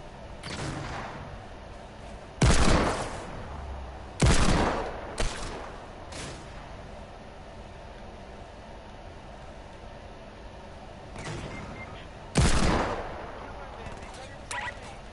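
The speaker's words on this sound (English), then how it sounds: "People are shooting." Gunfire in a PS4 video game: several sharp, loud shots in separate bursts over a steady background hum, with long gaps between them.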